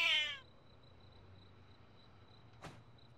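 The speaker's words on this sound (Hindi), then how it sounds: "ये एक जंगली बिल्ली है" A wild cat gives one short, close meow right at the start, then the room falls quiet apart from a faint low hum and a single brief click.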